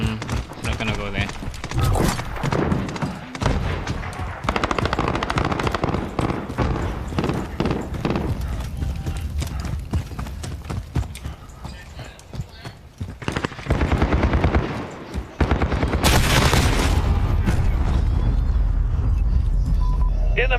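Rapid bursts of video game gunfire with heavy thumps and explosions during an online match, loud and dense, dropping briefly before surging again, with a player talking over the action.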